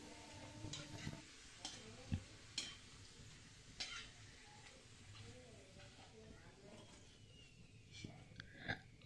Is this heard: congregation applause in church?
no